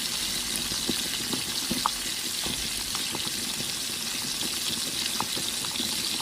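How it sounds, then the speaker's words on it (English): Chicken wings fry in a pan over low-medium heat, a steady hissing sizzle dotted with small pops and crackles, close and even throughout. "Fry until golden brown or fully cooked"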